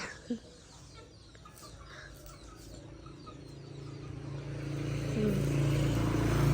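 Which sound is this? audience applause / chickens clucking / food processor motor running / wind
chickens clucking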